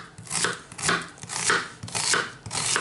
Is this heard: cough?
no